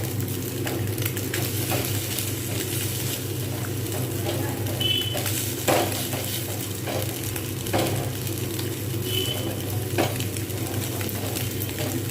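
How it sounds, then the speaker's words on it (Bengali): Fish fries in a pan with a steady, moderate sizzle and crackle, and faint scraping and clinks from stirring come and go over the constant hiss. "সুন্দরভাবে যতক্ষণ পর্যন্ত না ভাজা হচ্ছে তখন পর্যন্ত একটু অপেক্ষা করবো"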